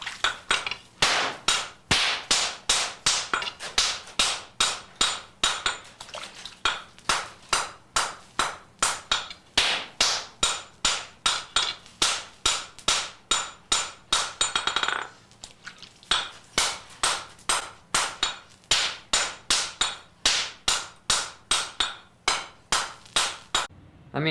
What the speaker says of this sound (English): you can really see how precisely he's forging. He's checking it every couple hits